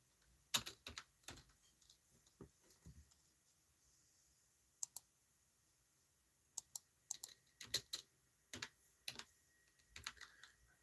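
Sparse, quiet keystrokes on a computer keyboard during a Google search, arriving in short irregular bursts of crisp clicks separated by pauses, with no talking.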